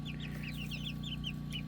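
A Turken hen clucks repeatedly in short, close bursts over a steady low hum, with faint chick or bird chirps high above.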